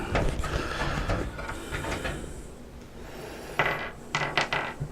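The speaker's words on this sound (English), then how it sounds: "Take out the 4 thumb screws." Thumb screws are turned out of a computer case side panel, heard as close, small metallic scraping and rattling clicks in uneven bursts, with a couple of sharper clinks near the end and no talking.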